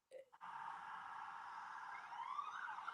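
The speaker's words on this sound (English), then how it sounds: "It's like the third siren I've heard go by." An emergency siren passes outside, heard faintly and steadily wailing at a distance through a wall, after a brief bit of nearby noise at the start.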